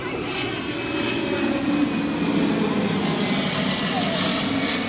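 Airplane on approach to land at an airport, a steady broadband engine roar holding loud and close for the whole stretch with no talk over it.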